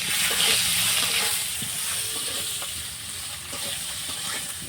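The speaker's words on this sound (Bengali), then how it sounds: "এই চেরা কাঁচা লঙ্কাগুলো আমি দিয়ে দিচ্ছি।" Potatoes and slit green chillies frying in hot oil, a steady broadband sizzle with occasional stirring clicks, close and even throughout with no speech.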